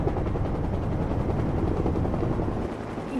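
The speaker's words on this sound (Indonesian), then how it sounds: "suara itu adalah suara pesawat yang dikira mereka kentut naga" Aircraft engine giving a steady, heavy low roar throughout, with a constant rumbling drone and no voices over it.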